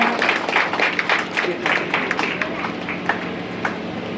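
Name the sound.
audience applause at a ceremony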